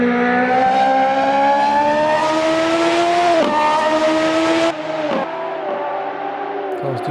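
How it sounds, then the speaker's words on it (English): Radical SR3 race cars at Road Atlanta in a racing video game, a high-pitched engine howling loud and close as revs climb and drop through gear changes, then easing off. "Cars do sound fantastic on track."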